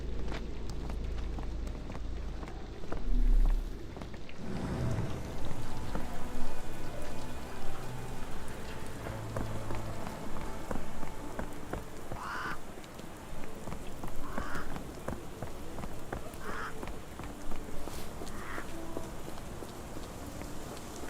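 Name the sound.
rain falling in video game Sherlock Holmes The Awakened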